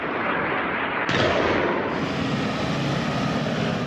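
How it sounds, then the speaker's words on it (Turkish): A dense, roaring barrage of distant gunfire and explosions rumbles continuously during a clash with PKK militants in a town centre in Bitlis, Turkey, with a sharp louder burst partway through and no clear pauses. "İlçe merkezinde ardı ardına patlamalar ve silah sesleri yankılandı."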